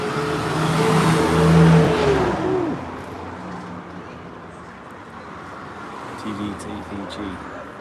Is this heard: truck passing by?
yes